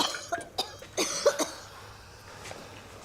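A person coughs several times in a row, short close harsh bursts clustered together and then fading to quiet, with no speech.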